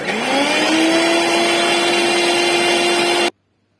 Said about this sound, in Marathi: ताक मिक्सरवर काढूयात